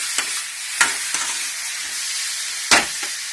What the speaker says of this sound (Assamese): বনি আছে গ্ৰেভি, মাংস, বিলাহী ভাজি হৈ আছে এতিয়া